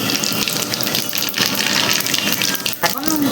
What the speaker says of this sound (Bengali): তেলটা গরম হয়ে গেছে, শুকনো লঙ্কা দিয়ে দিচ্ছি, তেজপাতা দিয়ে দিচ্ছি